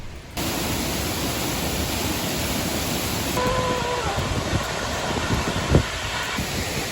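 A Norwegian waterfall close by gives a steady, loud, unbroken roar of rushing water, with a faint tone and a sharp click partway through.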